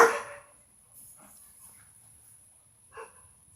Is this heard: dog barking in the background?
yes